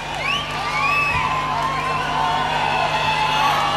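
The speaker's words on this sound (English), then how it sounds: "Big round of applause." A festival crowd at a Powderfinger show in Brisbane, Australia cheers and whoops steadily, with scattered shouts and whistles rising over a dense, loud wash of noise.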